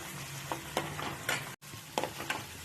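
Onions and green chillies frying in a little oil, a soft steady sizzle broken by several scraping stirs of a spoon against the pan, close and moderately quiet, with a brief dropout midway.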